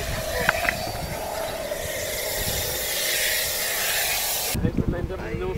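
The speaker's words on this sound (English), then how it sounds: "you might be able to hear the balloon filling in the background" Gas hisses steadily while a high-altitude balloon fills outdoors, a loud continuous rushing spray that cuts off abruptly near the end, after which a voice speaks.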